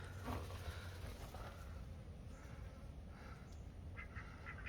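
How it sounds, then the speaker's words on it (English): Ducks quacking softly at a distance over steady low outdoor rumble, with a few scattered calls and no voices. "Hey there, ducky ducks."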